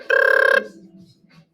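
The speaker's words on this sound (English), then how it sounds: "The phone rings." A telephone rings once with a bright electronic trill, loud and close, then stops, leaving faint low murmuring behind.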